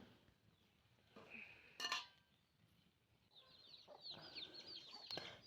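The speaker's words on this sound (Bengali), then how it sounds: "এর মধ্যে দেখেন আমার মোরগগুলোকে খাবার দিলাম।" Roosters cluck and call softly while being fed at breakfast time beside a clay stove, with a brief clatter of a dish midway and bursts of clucking near the end.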